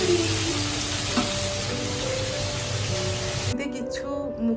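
Cut rohu fish pieces fry in hot oil, a steady close broadband sizzle that runs almost unbroken, with faint kitchen clatter, before the frying drops away near the end.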